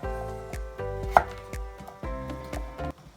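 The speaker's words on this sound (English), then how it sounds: "we're going to slice our squash to boil, like so" A knife cuts through butternut squash on a board in a run of about eight firm, evenly paced chops, each a hard thunk with a short ringing tail, close and clear with no talk.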